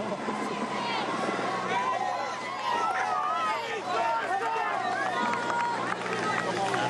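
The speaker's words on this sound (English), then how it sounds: "a big crowd making their presence felt, cheering on these tough men" A big roadside crowd at a classics cycling race climb in wet, cold weather cheers and shouts as riders pass, a dense babble of many voices and whistles, with a voice speaking over it.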